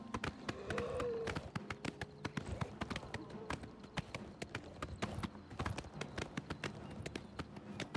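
Horse hooves gallop in the video game Oblivion Remaster, producing a fast, steady clip-clop rhythm of crisp, close hoofbeats that runs throughout.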